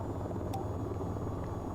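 An AH-64 Apache helicopter in the VTOL VR game gives a steady, low rotor drone that runs without a break, faint and heard alone.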